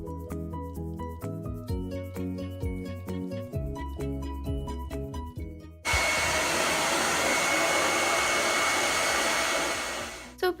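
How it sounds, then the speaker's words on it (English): A handheld blow dryer, used to smooth the edges of D-C-Fix self-adhesive wallpaper, runs as a loud, steady close-up whoosh for several seconds after some background music, then cuts off. "using a blow dryer was really helpful in getting very smooth edges"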